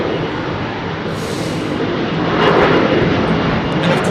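An Airbus A330-900 airliner at London Heathrow roars loud and steady, swelling slightly as it goes, a broad jet engine rush with no talk.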